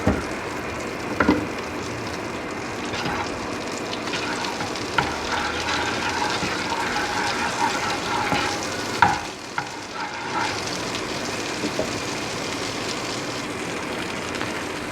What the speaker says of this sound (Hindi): बाकी जो मक्खन हमारे पास बचा हुआ है उसका थोड़ा सा पीस हम ले लेंगे, इसको फ्राई पैन में डाल देते हैं। इसको पिघला के